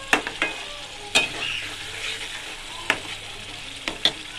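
Tomato puree and beetroot cooking over a high flame, a steady sizzling hiss broken by a few sharp stirring scrapes and clinks, close up and with no voices.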